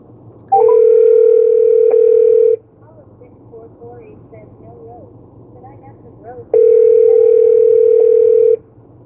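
A steady telephone line tone sounds in two long bursts, each about two seconds, with quiet mumbling and background hum in the gap between.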